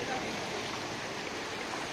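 Floodwater rushes through the Shukra stream at Atpadi in Sangli district after a night of cloudburst-like rain, a steady, loud broadband roar of turbulent water filling the whole clip with no break.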